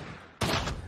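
Gunfire in a Call of Duty: Modern Warfare 2v2 tournament match: a loud, sudden burst of shots, close and harsh, that cuts in after a quiet moment and rings on for about a third of a second.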